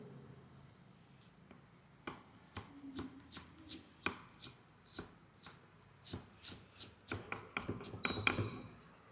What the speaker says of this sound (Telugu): ఈ అల్లం ఈ లేయర్గా కట్ చేసుకొని